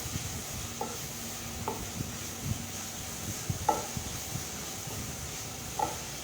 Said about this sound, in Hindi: ये प्याज अच्छी तरह से थोड़ा सा ब्राउन करना है हमें।